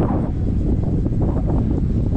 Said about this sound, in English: Oh, the wind is so strong.